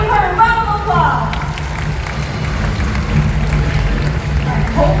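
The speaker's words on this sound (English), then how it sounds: "Let's give her a round of applause." Crowd applause at a bird show featuring a turkey vulture at Bird Paradise in Singapore, steady outdoor clapping and crowd noise, fairly loud and continuous, with a voice briefly audible at the start.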